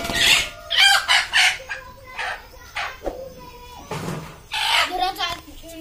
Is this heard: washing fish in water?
no